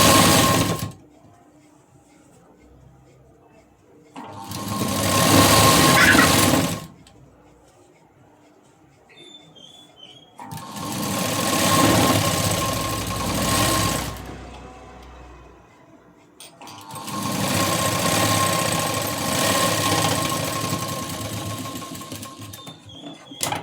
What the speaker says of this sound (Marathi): एक पाव इंचावरती ही शिलाई देऊन घ्यायची.